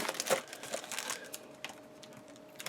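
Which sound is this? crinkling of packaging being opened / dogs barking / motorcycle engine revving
crinkling of packaging being opened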